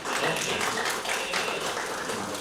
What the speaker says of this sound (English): Applause if you had a good time.